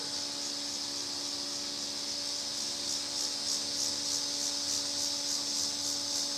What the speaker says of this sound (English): Maybe those are grasshoppers, I don't know, making that buzzing noise.